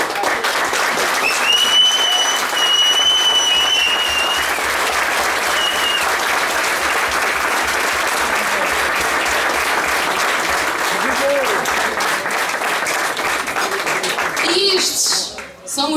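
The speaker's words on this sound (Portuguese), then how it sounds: "eu gostava da gente dar uma salva de palmas" Dinner guests at a festival supper in Santa Bárbara on Terceira Island applaud in a steady, full round of clapping that holds for many seconds before fading, with faint voices and a child's speech in the background.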